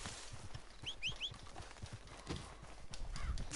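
In the Red Dead Redemption 2 video game, a horse's hooves clop in an irregular walking rhythm while a brief high whinny rises over them, all fairly soft against a low ambient bed.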